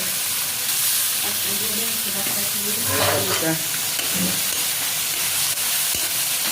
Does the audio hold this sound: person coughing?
no